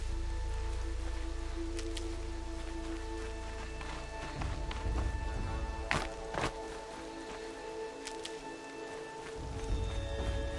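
Steady rain falls in the video game Horizon Zero Dawn, a continuous soft patter mixed with low ambient hum, a few sharp splashy footfalls or impacts cutting through near the middle.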